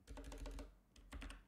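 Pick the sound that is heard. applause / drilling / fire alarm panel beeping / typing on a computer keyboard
typing on a computer keyboard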